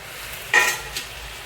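Magur catfish drop into a simmering curry, giving one sharp burst of sizzle that quickly fades into a softer hiss, with a smaller splash just after.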